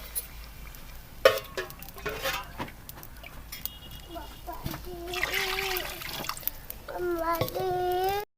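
Water poured into 1 kg of fully soaked rice for chicken and peas pulao, a steady splashing trickle with a few clinks and bumps, heard alongside a voice in the background.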